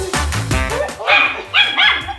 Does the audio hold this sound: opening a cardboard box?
no